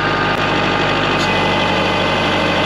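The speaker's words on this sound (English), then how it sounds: "I'm gonna act like I'm curling the bucket up." A Kubota tractor engine runs at about 1,500 RPM while the front loader curls its bucket up, giving a loud, steady, close mechanical drone with hydraulic strain and no talking.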